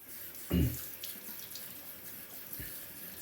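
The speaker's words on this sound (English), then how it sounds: "So I'm gonna wet the stone a bit." Tap water runs briefly onto a Shapton Kuromaku 1500 sharpening stone, a short splashing burst followed by a quieter trickle and a small second splash, close by with no talk.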